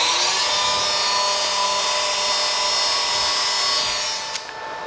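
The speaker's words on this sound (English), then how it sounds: "Ensure the spindle is running." The spindle of a Shopbot CNC router in a furniture studio whines at a steady high pitch, loud and unbroken, easing slightly just before the end.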